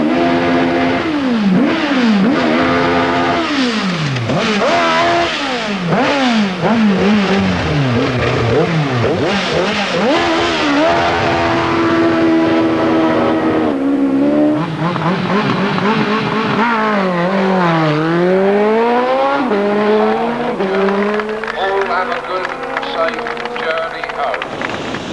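An Allard racing car accelerates hard at the Brighton Speed Trials, its loud engine climbing through several rising, gear-shifting sweeps as it passes, with a commentator talking over the noise.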